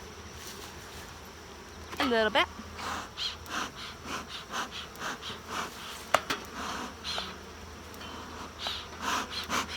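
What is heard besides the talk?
honeybees buzzing at hive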